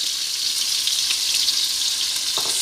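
Onions frying and browning in a pan as the base for Ghanaian-Nigerian jollof rice, giving a steady, close sizzle with a brief stirring scrape near the end.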